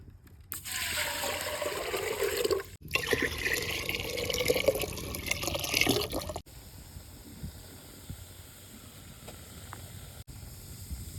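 Water pours over neem flowers while making a traditional neem flower juice, a steady close splashing and trickling for about six seconds that then drops to a faint, quieter dribble with a few small drips.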